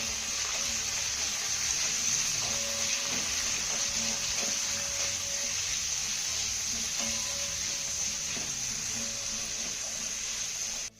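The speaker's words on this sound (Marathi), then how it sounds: "आता हा टोमॅटो ना आपल्याला चांगला मऊसूद होईपर्यंत परतून घ्यायचा आहे." Chopped tomato with garlic sautéing in a pan, a steady broadband sizzle that stays even and fairly faint throughout, with light clinks of stirring now and then.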